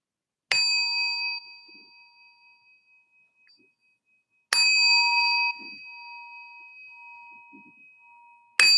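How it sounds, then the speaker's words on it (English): Three clear meditation bell strikes during a guided meditation, each a bright metallic ding with a long, slowly fading ring, spaced about four seconds apart with quiet between them. "allowing our minds to follow the sound of the bell"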